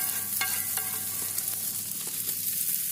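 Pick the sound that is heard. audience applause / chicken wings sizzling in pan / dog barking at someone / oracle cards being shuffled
chicken wings sizzling in pan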